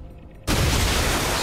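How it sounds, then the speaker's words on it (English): A sudden loud blast in the video game XCOM Chimera Squad bursts in after a quiet moment and sustains as a dense, roaring rumble, with no talk over it. "Explosion goes off. That broke the kinetic shield."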